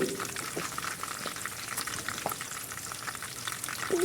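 Herbal oil for skin treatment spits and splutters as leaves fry in a pan, a dense close crackle with sharp scattered pops throughout.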